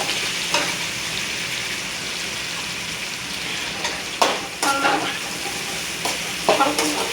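Chopped shallots frying in oil with garlic in a pan for a garlic kuzhambu, a steady close sizzle broken by several brief scraping stirs of a spoon, with no talking.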